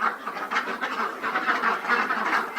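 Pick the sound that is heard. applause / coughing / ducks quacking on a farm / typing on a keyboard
ducks quacking on a farm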